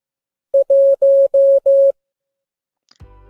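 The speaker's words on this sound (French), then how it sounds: "le chiffre 1 a pour code morse un son bref, suivi de 4 sons longs" Morse code for the digit 1 as pure steady tones: one short beep followed by four long beeps in an even rhythm, clean and loud with silence around them, ending in a brief noisy rustle.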